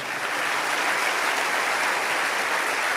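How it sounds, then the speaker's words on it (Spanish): A crowd claps steadily for about three seconds, a dense even wash of applause with no voices. "Alguien tiene que aplaudir más fuerte que eso."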